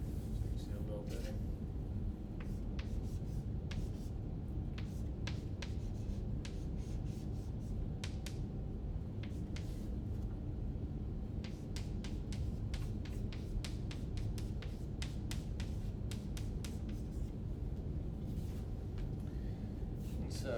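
A pen scratches steadily across a tablet or board while drawing a chemistry reaction diagram, with short sharp strokes and taps over a low constant hum.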